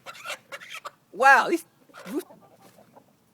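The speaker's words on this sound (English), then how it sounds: "another one, busy roosters." Farmyard roosters crow in a couple of short, strained calls partway through, close by and moderately loud, surrounded by someone talking before and after.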